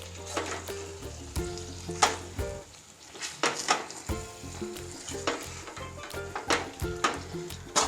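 Spiced potatoes for Bhavnagar-style bhungra bateta are stirred in a pan: a steady close sizzle under repeated scraping and clinking strokes of the spoon against metal, alone with no voices.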